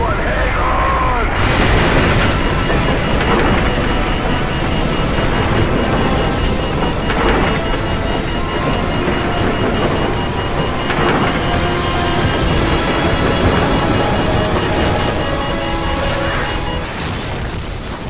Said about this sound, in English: What appears to be an explosion of epic proportions.